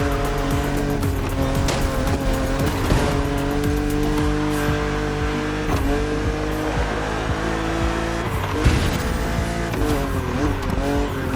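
A BMW Z roadster races in The Crew Motorfest, its engine droning steadily at high revs as tires squeal through corners, loud and continuous against an aggressive opponent, with no voices.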